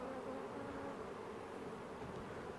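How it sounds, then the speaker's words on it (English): A dense, steady buzz of many bees swarming around beehives, close and constant with no voices. "Look at all them bees."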